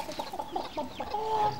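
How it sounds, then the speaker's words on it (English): Chickens cluck and squawk in a busy cluster of short calls while being fed grain on a children's TV farm set, ending in a longer drawn-out call, with no voices over them. "Flick the grain at the chickens."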